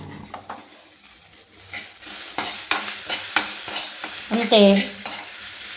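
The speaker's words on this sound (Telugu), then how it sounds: "పెసలు బాగా వేగినాయి ఫ్రెండ్స్" Moong sprouts frying in a pan with steady sizzle and repeated scraping stirs, a short harmonic clatter near the end; a brief word is spoken.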